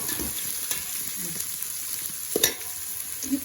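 Sliced onions frying in oil for a puffed-rice breakfast dish, with a steady sizzle broken by several sharp scrapes and clacks of stirring close by.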